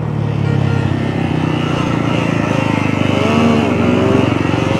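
A Yamaha R15 V4 motorcycle engine runs loud and close on a morning ride, a steady throbbing hum with slight rising revs toward the end.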